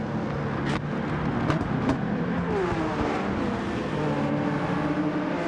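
A Hyundai and a Nissan race close together, their engines droning loudly and revving with shifting pitch, while a few sharp clicks and knocks cut through the steady roar.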